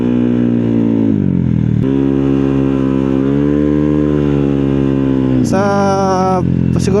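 A motorcycle engine revs loud and close with steady harmonic drone, its pitch climbing and holding, then dropping before a sharp higher rev burst near the end, with no talk.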